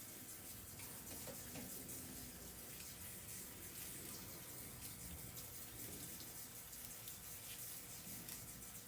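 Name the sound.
tap water running while rinsing kale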